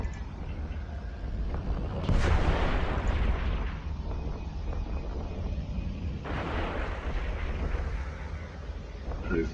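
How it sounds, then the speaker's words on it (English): Missiles strike rogue drone frigates in a space combat video game, producing two loud whooshing blasts with rumbling impacts, the first around two seconds in and another about six seconds in, over a steady low drone. "we want to hit the frigates first with just a couple of missiles each"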